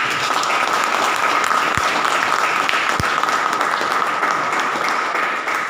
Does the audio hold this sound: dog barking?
no